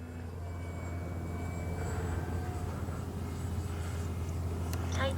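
An H-King Yak-11 RC model airplane holds a steady engine drone at full power, its sustained tone continuous and fairly loud throughout, with faint outdoor background and no voices.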